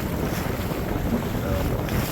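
Strong wind roaring across the microphone aboard a Catalina 22 sailboat heeled over on Padilla Bay, a loud constant buffeting with water and hull noise beneath.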